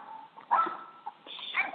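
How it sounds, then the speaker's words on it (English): Several dogs bark faintly in the background, a few scattered yaps over a low hum. "I might think some dogs, I think, barking in the background"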